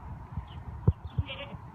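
Goats clambering on rocks give two short bleats close by at a park in Utah, set against low outdoor rumble with no talking.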